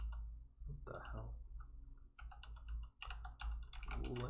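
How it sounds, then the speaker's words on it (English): Quick bursts of typing clatter on a computer keyboard during a coding session, clustered in uneven runs of keystrokes, close and moderately loud, with brief pauses between bursts and no speech over them. "So bad at typing."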